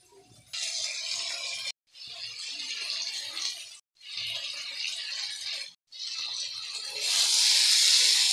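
Water pours in bursts into a pan of curry with prawns, potatoes and pointed gourd, a steady splashing gush heard up close in four stretches separated by brief pauses, with no talking.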